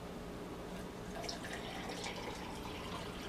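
Tap water runs steadily into a 16-ounce pint glass, a continuous hiss of pouring liquid with no talk over it.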